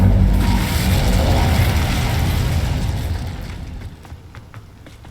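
An Incendio fire spell cast in Hogwarts Legacy bursts out as a loud, deep whooshing roar that holds for a few seconds, then fades away toward quiet near the end.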